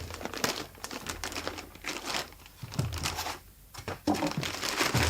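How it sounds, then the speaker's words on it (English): A good-quality plastic bag crinkles and rustles continuously as a Rotel A11 integrated amplifier is pulled out of it during unboxing, with close, uneven crackling bursts and brief pauses. "Removing it from the bag is very straightforward. It's a good quality plastic bag"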